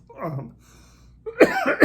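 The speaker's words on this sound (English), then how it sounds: "I'm sorry about the cough here, a little tickle." A person gives a few harsh, close coughs from a throat tickle, clustered near the end after a brief stretch of voice and quiet.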